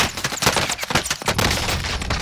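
Rapid, dense bursts of automatic gunfire from a Call of Duty: Modern Warfare match, loud and close, cracking continuously with almost no gaps.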